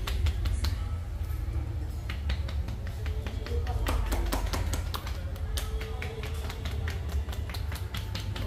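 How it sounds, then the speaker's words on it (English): Quick, crisp hand claps patter on a person's head during a two-woman head massage and hair wash in Cambodia, coming in irregular bursts of several slaps over steady background noise, with faint voices underneath. "Oh, the clapping."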